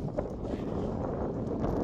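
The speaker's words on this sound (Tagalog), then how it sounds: "Sobrang lakas ng hangin." Strong wind in a quiet small town in North Dakota, buffeting the microphone with a continuous low rumbling roar, steady and close throughout.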